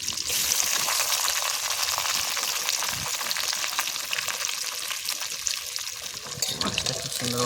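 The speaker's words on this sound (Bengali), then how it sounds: "তো চলো এবারে মাছটা ভেজে নেবো।" Fish pieces rubbed with salt, turmeric and oil fry in hot oil in a rural kitchen, giving a steady, close crackling sizzle throughout with a few brief clatters.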